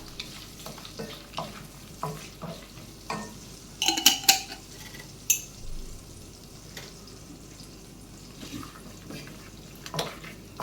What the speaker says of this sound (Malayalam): ഇതെല്ലാം കൂടെ ഒന്ന് നല്ലോണം ഒന്ന് വറുത്തെടുക്കാം.